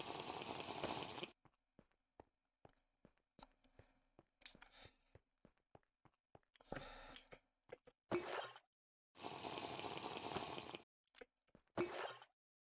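Water in the Minecraft Crafting Dead mod comes as short splashy gulps and squishes, two longer bursts of sloshing noise separated by quiet gaps with scattered small clicks and plops, all fairly faint.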